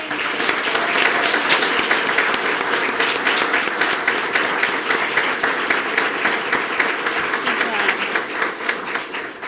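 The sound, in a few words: audience applauding at police awards ceremony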